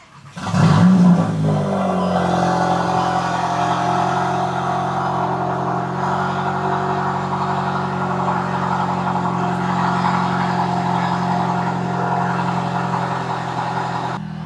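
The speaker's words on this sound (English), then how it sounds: "start the car" A Volkswagen Golf Mk8 engine turns over and catches, then settles into a steady, loud idle that hums on without pause.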